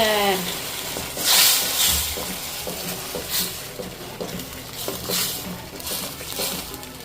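Tomato paste added to a cooking pan with ginger garlic paste for black chole, bringing a clear sizzle and scraping stir strokes with clinks of utensil on metal, moderately close and without talk.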